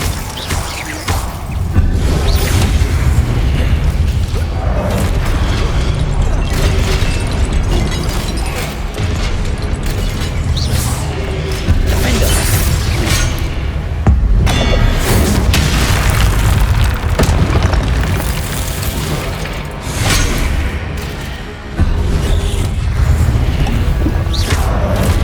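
Confringo spell explosions in the video game Hogwarts Legacy, with repeated heavy booms and crashing blasts filling a loud, continuous combat mix, with occasional brief dips between strikes.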